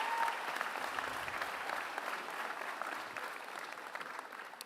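Steady applause from a seated audience at a UC San Diego medical school white coat ceremony, a moderately loud wash of clapping that holds evenly and eases slightly toward the end.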